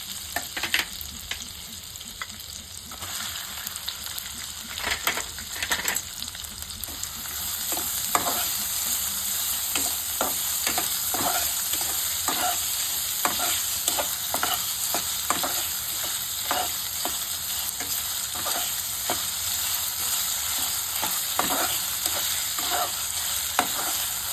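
Onion frying in ginger-garlic paste for a mushroom masala makes a continuous sizzle. Frequent close stirring clacks and scrapes run over it, and the frying grows louder partway through, with no voices.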